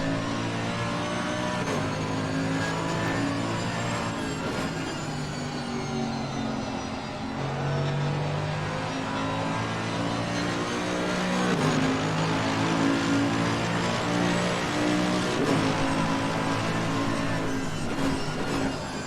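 Onboard engine of a Mercedes race car in Assetto Corsa Competizione at Brands Hatch, a continuous loud roar with rising and falling revs and gear shifts throughout.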